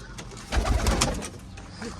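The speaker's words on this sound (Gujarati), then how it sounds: "ફૂલ ઉડવા વાળા કબૂતર ઉડાડી આપણે." Pigeons coo in low, soft, rounded bursts, close by, with a cluster of louder coos early on and faint rustling after; no speech.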